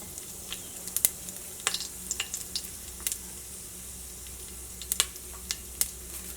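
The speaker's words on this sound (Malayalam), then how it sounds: "ഇതിലേക്ക് ഉണക്കമുളക് ചേർക്കാം. ഉണക്കമുളക് ഇതേപോലെ പതുക്കൊന്ന് പൊടിച്ചിട്ട് ചേർക്കാം." Fenugreek and dried red chilies fry in hot coconut oil, giving a steady close sizzle broken by scattered sharp crackles and pops, with no talking.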